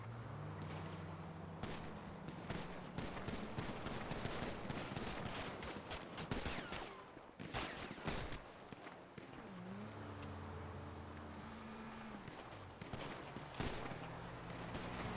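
Gunfire in a GTA roleplay game, dense crackling bursts of shots and rapid volleys running throughout, loud and continuous, with engine-like drones and no clear speech.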